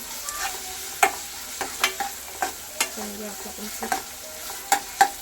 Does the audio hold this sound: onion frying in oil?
yes